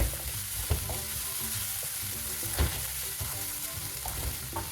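Chopped green chilies, ginger and garlic sauté in a pan for chicken cutlets, giving a constant crackling sizzle punctuated by a few louder stirring scrapes.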